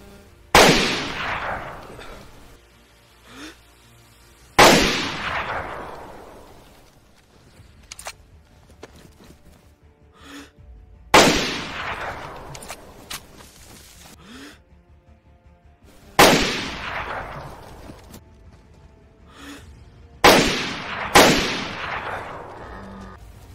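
Five or six loud, booming gunshots from the game DayZ, spaced several seconds apart, each with a long echoing decay, with faint clicks and shuffling in between.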